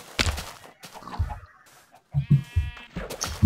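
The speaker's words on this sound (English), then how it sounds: "I found three sheeps." Sheep bleating in the block-building game Minecraft, a few short bleats and clucky calls spread across a few seconds, fairly close, mixed with other farm-animal sounds.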